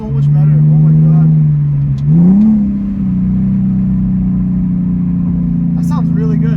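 Catless Greddy Y-pipe single-exit blast pipe exhaust on a BMW E46 holds a deep, loud idle, gives a short blip of revs, then settles back to a steady drone; voices speak near the start and end.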